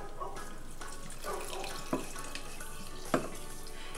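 Brine pours steadily over shredded cabbage in a kitchen to make sauerkraut, a soft continuous splashing with a few sharper drips and clinks, close and fairly quiet.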